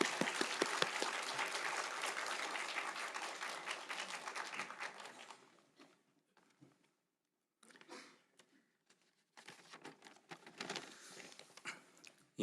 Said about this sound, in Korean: 우리 박수로 함께 축복할까요?